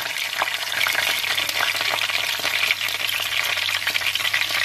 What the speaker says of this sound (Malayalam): കടുക് ഒന്ന് പൊട്ടണം. കടുക് പൊട്ടി വരുമ്പോഴത്തേക്ക് നമ്മൾ ഓരോന്നോരോന്ന് ഇടാം.